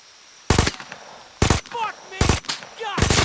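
Gunfire at enemy dinosaurs in the video game Ferocious: four loud, close bursts of rapid shots at roughly even intervals, with creature shrieks and chirps in the gaps between volleys.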